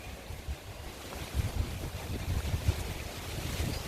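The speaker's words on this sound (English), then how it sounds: "As you can see, it's horrendously windy." Strong wind roars steadily across the microphone in a tropical garden in late autumn, with low gusty rumbles and buffeting swelling and easing throughout.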